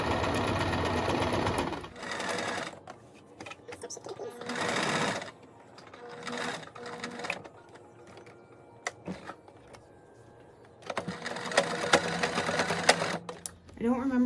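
A sewing machine back stitching a vintage blouse runs in several short bursts separated by pauses, close and clattering, with a person talking in between.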